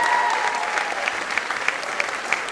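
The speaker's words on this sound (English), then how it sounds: "A big round of applause for him." At a staff felicitation ceremony, an audience fills the hall with sustained, even applause, a dense wash of clapping with a few sharper individual claps standing out over a constant hum.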